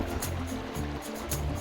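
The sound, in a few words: river water flowing, Jamui river in Bihar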